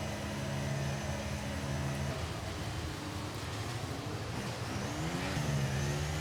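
A Formula 1 race car in the F1 23 video game revs its engine at the start of a race in Austria, a steady, fairly quiet high-pitched whine with stepped rises in pitch as the revs climb.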